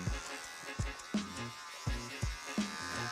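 Electric hair clippers buzzing in short repeated bursts during a short pixie haircut on a woman, quiet and close, pulsing on and off roughly every half second.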